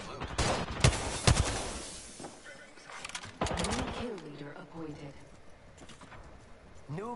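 Gunfire in a shooter video game crackles in quick, loud bursts at the start, then fades into scattered shots while a player talks over it.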